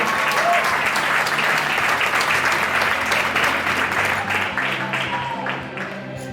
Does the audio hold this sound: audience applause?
yes